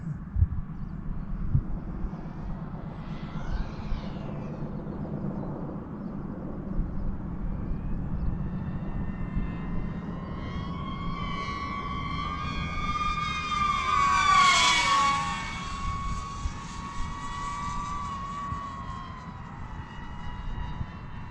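A DJI drone on a high-speed pass whines with a rising, then falling, pitch as it approaches, peaks loudly overhead and recedes, over steady outdoor background noise.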